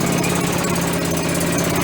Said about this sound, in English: So with the engine idling, we want to pull off this cover.